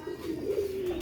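Pigeons of a purple-feathered breed cooing in a low, steady throaty rumble, close and continuous for about a second, with no talking.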